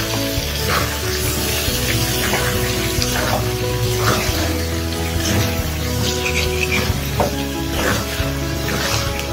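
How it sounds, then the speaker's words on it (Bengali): Water is added to a cooking pot of jackfruit, chicken and tomato, making a continuous loud rushing, sizzling wash with no break and no talking. "পরিমাণ মতো জল দিয়ে দিয়েছি"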